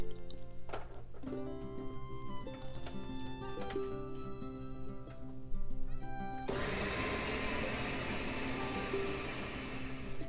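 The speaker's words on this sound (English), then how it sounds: "Put it in a blender and blend it for a few seconds." A kitchen blender purees canned whole peeled plum tomatoes for a sauce, the motor roaring loud and steady for the last few seconds after quieter kitchen clatter.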